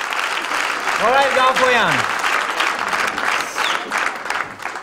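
Applause from a concert audience at Arena Live makes a steady broadband clatter throughout. Someone speaks over it near the start.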